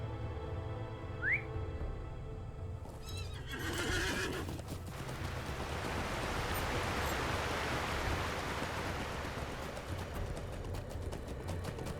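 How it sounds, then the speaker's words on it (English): A horse in the game Lord of the Rings Online (LOTRO) whinnies loudly, then its hooves clip-clop over a wide, steady wash of ambient game sound that continues to the end. "Get on my horse."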